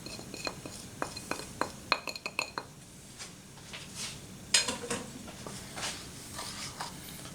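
A bowl of flour seasoned with black pepper, garlic powder, onion powder and paprika being mixed, heard as a run of light clinks and taps of a utensil against the bowl, close and fairly quiet, followed by softer scraping.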